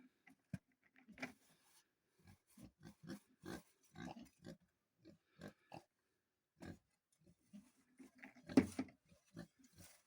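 Short grunts and oinks from several pigs, irregular and close by, with scuffling and knocking in the pen between calls.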